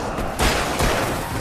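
Fireworks in the Alan Wake video game burst in a loud, dense crackling roar, with two sharper booming peaks inside a continuous wash of noise.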